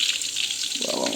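Garlic dropped into hot oil in a pan gives a brief, close, bright sizzle with a steady crackling hiss.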